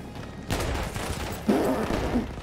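Two sharp shotgun blasts from Battlefield 1, about a second apart, each a loud broadband crack with a short rumbling tail, heard close with no talk.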